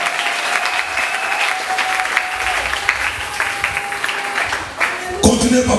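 A congregation at a Christian church service breaks into sustained, dense applause that fills the room at a steady level, with voices and a few whoops faintly mixed in and a brief shift near the end.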